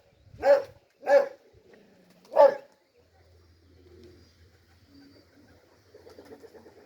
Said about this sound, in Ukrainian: Дуже багато голубів.